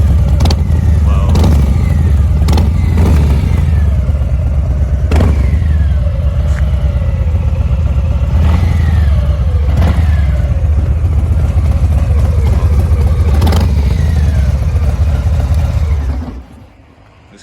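A Harley-Davidson Fat Boy fitted with an aftermarket Vance and Hines exhaust, rumbling loud and close with repeated sharp throttle blips and revs over a deep idle, voices talking underneath, before cutting off at the end.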